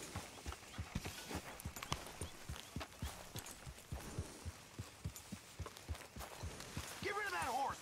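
Horse hooves clip-clop at a steady walking pace in the open-world video game Red Dead Redemption 2, fairly near, with a voice speaking briefly near the end.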